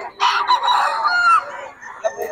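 A rooster crows loudly and close by at a chicken market in Bocaue, one long drawn-out call followed by a few short clucks.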